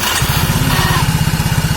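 Honda Soul GT scooter being started with the starter: brief crank, then the small engine catches into a fast, even putter, close and loud, with no talking.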